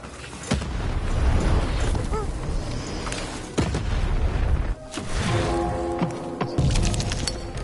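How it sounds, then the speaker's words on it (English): Cannons firing in the video game Lost in Random, with several heavy booms spaced a few seconds apart, each followed by rumbling noise and a brief ringing tone. "Shoot the button to fire the cannon."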